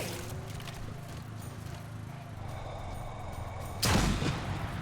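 Enemy gunfire in the VR shooter Sniper Elite VR: a sharp, loud burst of shots near the end, following a low rumbling background of game ambience.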